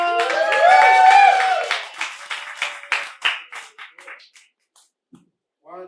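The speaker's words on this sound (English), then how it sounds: "Guys, give a round of applause for my man," Audience applause and cheering for comedian Kazim Ramon at a live late-night comedy show, starting loud with whoops and tonal shouts, then thinning into scattered claps and fading to near silence.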